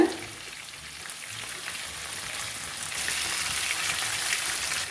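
Fish frying in masala in a pan over medium heat, a steady close sizzle that grows slightly louder and denser partway through, with no talking.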